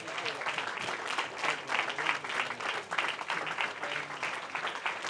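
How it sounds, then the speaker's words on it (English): Town hall audience applauding steadily, a dense, sustained clatter of many hands clapping throughout with no break, moderately distant. "Get up, give her a hand"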